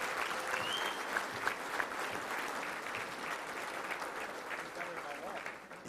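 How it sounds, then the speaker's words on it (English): A round of applause at a Little Rock Touchdown Club luncheon, a room full of people clapping steadily at moderate distance, the sound holding evenly before thinning slightly at the end, with some voices mixed in. "let's go ahead and give a round of applause right off the bat for him coming"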